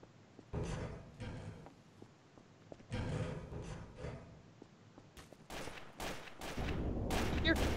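Gunfire in Garry's Mod Trouble in Terrorist Town, a player firing in a lighthouse area: bursts of shots at irregular intervals, some sharp cracks, with indistinct voices mixed in.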